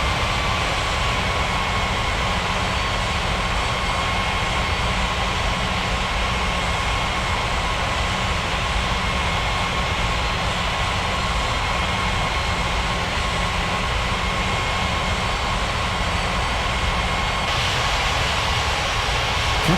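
Aircraft engines whining steadily while an airliner taxis to the runway in a 3D flight game, a constant loud drone with a sustained tonal hum lasting the whole time.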